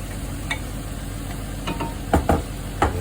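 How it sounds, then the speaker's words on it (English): Tomatoes tipped into a hot pan of chicken curry hiss under a constant sizzle, with a few soft stirring knocks near the end. "now it's time to put in the tomatoes"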